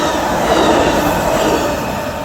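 An Amtrak ALC-42 locomotive passes close by a house, making a loud, steady rumbling roar of rail noise that holds for the whole stretch; no distinct horn blast stands out.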